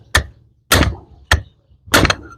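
Four loud, separate hammer strikes on a tire lever while working on a Kubota L4508 tractor, sharp metallic thwacks spaced unevenly and close by.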